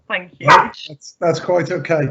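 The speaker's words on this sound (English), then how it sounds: "And do pardon my dog who wants to take part." A dog barks in short bursts during a remote council scrutiny committee meeting, heard between and under a person speaking close to the microphone.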